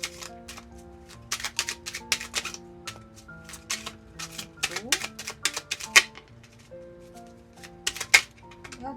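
Lenormand oracle cards are shuffled and handled in a sequence of crisp, papery slaps and rustles, with soft background music playing and a voice speaking intermittently.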